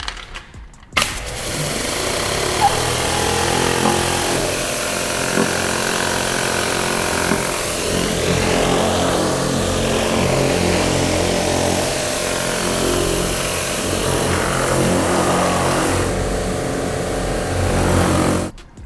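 A Pro Blaster machine blasts the chassis of an abandoned Maserati Biturbo being cleaned, a loud, steady motorized roar with a broad hiss that starts abruptly after a second and runs nearly unbroken before easing off at the end.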